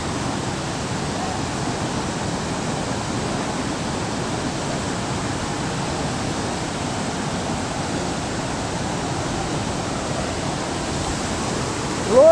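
Kaigal Falls pours in a heavy, high-flow rush of water that makes a constant, loud, even roar throughout, with no voices.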